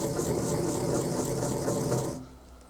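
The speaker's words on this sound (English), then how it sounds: "really grind them down well until you get them really small" Dried eggshells ground down fine, with a dense, close scraping rasp for about two seconds before it stops abruptly into quiet.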